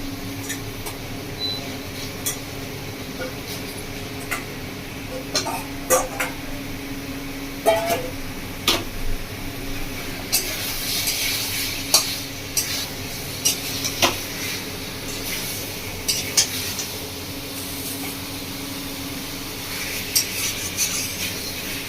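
Washed chicken pieces go into a kadai of well-fried masala for a village-style Bengali chicken curry and are stirred, giving scattered scrapes, clinks and soft sizzling that stay close and fairly quiet, with no talking.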